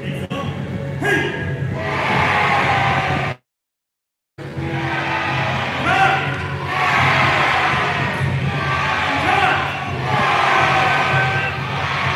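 A large outdoor crowd at Universal Studios Japan on a very cold day yells and cheers in sustained waves, nearby and loud, with one brief silent break partway through.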